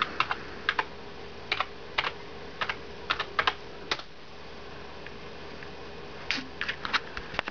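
A password is typed on a computer keyboard, producing quick, close clusters of light plastic key clicks that stop briefly midway and then resume in a short final burst.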